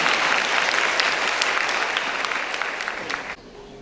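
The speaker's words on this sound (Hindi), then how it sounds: "जोरदार तालियां बजाइए" Audience applause at a church welcome gathering, steady and full for about three seconds before dropping off abruptly near the end, leaving quieter room noise.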